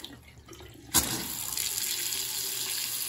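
A newly installed bathroom vanity faucet is turned on after a brief quiet start, and water then runs steadily into the sink, a close, even hiss that continues to the end.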